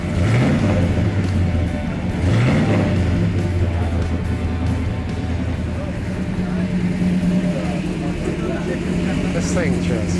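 A 1967 Hemi GTX convertible with a 4-speed runs loud and close, its deep idle rumble broken by two sharp revs near the start before it settles into a steady, throaty burble, with voices partly underneath.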